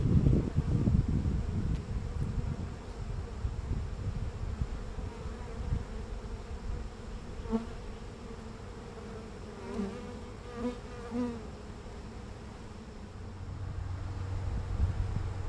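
Honeybees from a small swarm fan inside a hive box, a steady close buzzing drone with low rumbling handling noise at the start and faint tonal hums drifting through.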